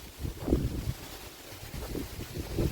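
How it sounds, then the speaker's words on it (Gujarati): Wind buffets a microphone outdoors in a maize field, making low, uneven rumbling gusts that rise and fall in soft bursts. "તમને અવાજ તો આવતો જ હવે પવન"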